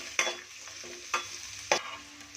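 Peanuts and cumin fry in a pan, a soft continuous sizzle broken by three or four sharp scraping stirs at a steady pace, close and fairly quiet, no talking.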